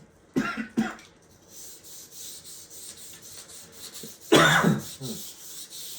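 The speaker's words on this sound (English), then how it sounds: "we can take some sandpaper and sand our final coat to again blend everything in" Sandpaper rubbed by hand across stained wood, heard close as a few short, rough scratchy strokes separated by quieter pauses, including one louder stroke near the end.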